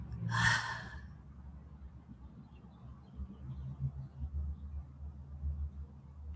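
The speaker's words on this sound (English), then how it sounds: "Inhale and exhale." A single quick, breathy inhale comes close up during a guided breathing exercise, followed by several seconds of quiet room noise.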